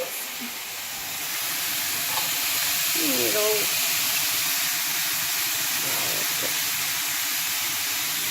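Onions added to a hot pan for a chicken stew sizzle with a steady, soft frying hiss, with a few brief clinks of stirring midway.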